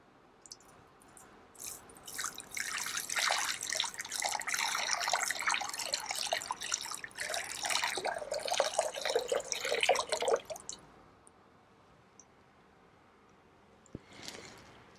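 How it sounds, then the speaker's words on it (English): Water is poured during a Unitarian Universalist water communion ceremony, a close, splashing trickle lasting about eight seconds. It ends in scattered drips, with a faint clink near the end and no talking. "Listen to the sound of the water."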